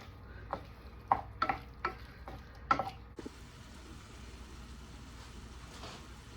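Garlic sautés in a pan for Cajun shrimp and grits, with a few spoon scrapes and clinks in the first three seconds and then a soft, steady sizzle. It is faint and has no talking.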